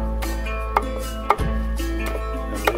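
Knife chopping leaves finely on a board, a few sharp separated strikes over a steady low hum, close and clear with no talk.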